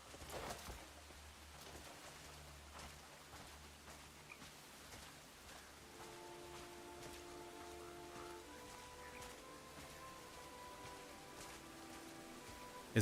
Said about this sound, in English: Now it's raining, so we'll see how that looks.